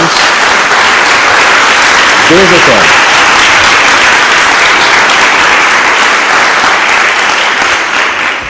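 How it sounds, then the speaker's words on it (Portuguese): Loud, continuous applause from a church congregation fills the whole stretch, steady and dense, with a brief spoken phrase rising above it near the middle. "Dê uma salva de palmas a Jesus."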